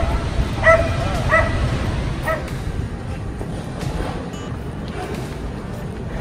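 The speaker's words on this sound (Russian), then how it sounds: "Чё ты лаешь?" A small dog on a balcony in Barcelona gives several short yips and barks in the first couple of seconds, then fainter whimpers, set against a steady outdoor street background.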